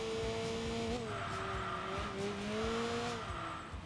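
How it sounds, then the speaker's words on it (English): Aggressive car exhaust notes in the racing video game Enthusia Professional Racing, a loud, sustained engine drone whose pitch rises and dips through gear changes, with brief tyre squeal mixed in. "You can definitely hear a little bit more aggressive exhaust notes out of the car now."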